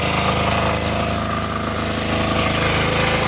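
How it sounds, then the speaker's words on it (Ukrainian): A new VitalsWP 6.5-3de four-stroke diesel generator engine runs steadily during break-in, a loud, close, continuous chugging drone with an even pulsing rhythm and no talk over it. "Мотовичик гарно працює"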